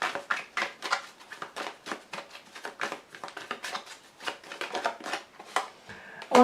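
Tarot cards shuffled by hand in quick, rhythmic riffles and soft flicks, close and fairly quiet, ending with a card slapped down as the spread is laid out.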